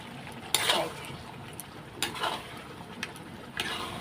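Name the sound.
mutton being sautéed and stirred in spices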